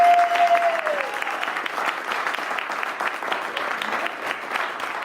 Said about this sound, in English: Let's give a huge applause and welcome Jim Bunch back to the stage.